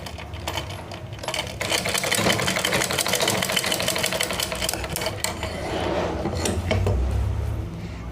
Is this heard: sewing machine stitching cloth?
yes